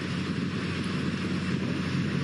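Helicopter flying over a Giro d'Italia cycling race, heard as a continuous close roar of rotor and engine noise, steady and loud throughout with no talk.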